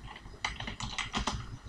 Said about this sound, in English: let me type here welcome